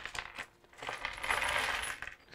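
Dice rattle and clatter during a tabletop role-playing game session, a close burst of bright clicking and tumbling that swells in the middle before fading, with no speech.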